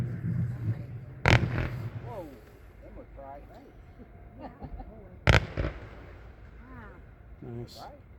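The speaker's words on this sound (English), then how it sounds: "Next up is number 94, Hearts and Daggers. This is a 25 shot Showtime." A Hearts and Daggers 25-shot Showtime firework cake gives two sharp, distant booms several seconds apart, with nearby voices talking and murmuring between the shots.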